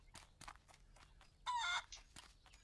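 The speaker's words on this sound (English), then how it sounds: "Chicken." Chicken in the video game Barn Finders gives a brief, loud squawking cluck about midway, set among quieter scattered clicks and faint background sounds.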